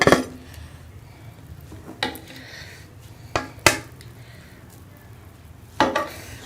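Beef pulao being served out of a cooking pot, with a few sharp metal clinks of a serving spoon against the pot at scattered moments over a low, quiet kitchen background.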